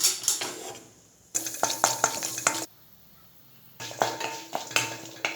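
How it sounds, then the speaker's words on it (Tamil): Chana dal dropped into hot oil in a pan for coriander chutney, crackling and sizzling in bursts as a spoon scrapes and stirs against the metal, with short quiet gaps between stirring spells. "ஆயில் காஞ்சதுக்கு பிறகு கடலைப்பருப்பு"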